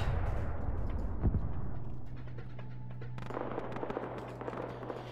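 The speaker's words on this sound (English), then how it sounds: "They cooked off the tank." A tank cooks off in a military video game: a loud burst of explosive cracks and booms up front, then a rolling rumble with a steady low drone and scattered popping detonations continuing behind it.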